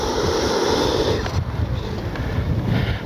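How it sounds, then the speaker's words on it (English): Strong wind buffets the microphone with loud, rushing gusts, masking the low drone of a Freewing MiG-29 RC jet with twin 80mm fans underneath. "Oh boy, is it windy."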